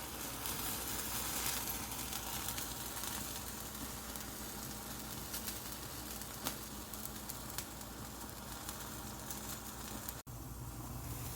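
An eggplant roasts directly over a stove flame for baingan bharta, giving off a steady, faint sizzle and hiss with small crackles and one brief dip near the end. Nobody talks.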